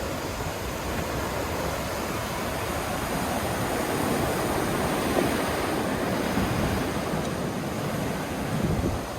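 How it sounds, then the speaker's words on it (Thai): Pacific Ocean surf at Huntington Beach pier in California: a steady, broad wash of breaking waves with wind noise on the microphone, continuous and moderately loud, with no voices. "อันนี้มันมหาสมุทรแปซิฟิกอันนี้"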